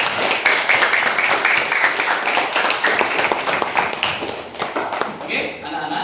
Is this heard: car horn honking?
no